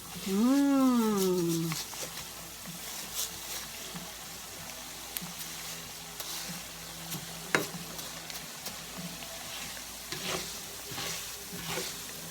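Rice frying in oil in a pan, a steady close sizzle with occasional stirring scrapes, and a brief vocal exclamation at the start.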